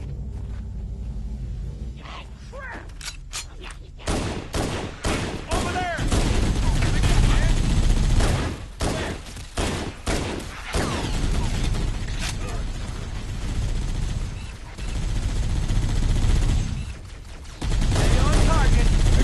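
Gunfire from Halo CE Anniversary, bursts of rapid automatic fire and sharp shots with mechanical weapon clatter, loud and close, interrupted by brief quieter gaps, with talk mixed in.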